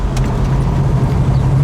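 A 1970 Chevelle SS 454 with vacuum cowl induction idles smoothly and steadily, a deep close rumble of the big V8 running alone without talk.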